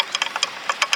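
A loose number plate on a Honda X-Blade 160 motorcycle rattles with rapid, irregular metallic ticks, close and fairly loud, clattering on its own.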